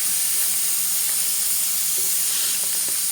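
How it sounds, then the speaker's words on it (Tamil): Onion, curry leaves and green chilli sauté in a hot pan, giving a steady, loud, even hiss of sizzling oil that runs unbroken throughout. "எல்லாம் சேர்த்து பச்சை மிளகாயும் நல்லா வதக்கி கொள்வோம்."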